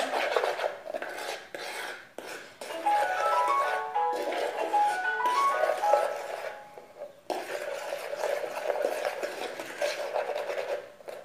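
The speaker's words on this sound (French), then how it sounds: "Donc je vais bien mélanger les épices avec l'huile d'olive" Spices, salt and olive oil being stirred together for steamed chicken rice, a soft continuous scraping and rubbing that runs steadily with brief pauses, fairly close, with faint background tones and no talk.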